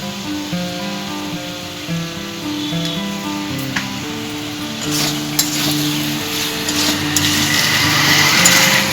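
Fried pointed gourd (potol) pieces stirred in a pan for a creamy malaikari, giving a steady low sizzle with scraping stir strokes that grow busier and louder toward the end, with no talking.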